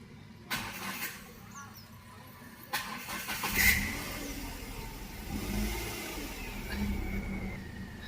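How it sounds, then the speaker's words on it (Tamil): A car engine cranks and fires on a 30Ah sodium battery, catching quickly, then idles and revs in short bursts, moderately close with faint voices around. "ஸ்டார்ட் பண்ணுறேன், ஒரே அடி ஸ்டார்ட் ஆகுதுன்னு நினைக்கிறேன்."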